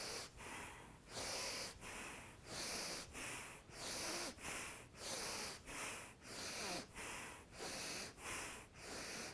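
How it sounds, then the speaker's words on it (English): Slow, audible yoga breathing, in and out through the nose in a steady rhythm, about ten forceful breaths close to the microphone with short pauses between them. "So it's inhale, exhale."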